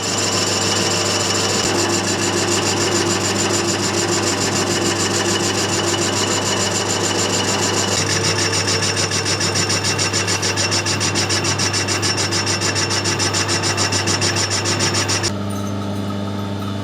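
Metal lathe (SNNC 170) cutting an aluminium spacer for a wheel balancer, a steady loud rasping, whirring cut with a constant low hum that changes character midway and shifts again near the end, no talking.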